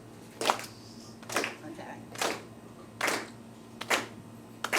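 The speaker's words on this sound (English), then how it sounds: "I want you to clap with me, just softly now" Soft, slow claps from a bar audience, about six evenly spaced hand claps over a low steady hum, ahead of a song.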